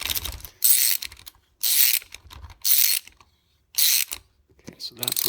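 A 10mm socket on a ratchet turning a thread tap, giving four bursts of rapid ratchet clicking, each roughly half a second long and separated by pauses, close and loud.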